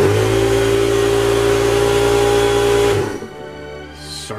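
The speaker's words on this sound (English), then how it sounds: "About my compressor, you guys know my compressor, you know it's a very big one, so it's makes lots of noise." A very large airbrush compressor in a model-making workshop drones loudly and steadily with a strong low hum for about three seconds, then shuts off and leaves a quieter room with a faint hiss.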